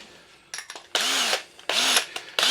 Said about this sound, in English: Now we're going to drill here with a bigger drill bit